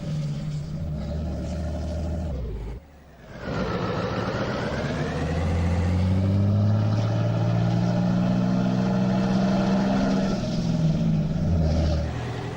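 A pickup truck with a 7.3 Power Stroke diesel engine in Farming Simulator 22 idles, cuts briefly, then restarts and rumbles steadily at close range as revs rise and fall, with no voices over it.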